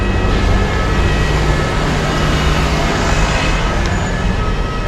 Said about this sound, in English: this is our last metro ride here in Paris, France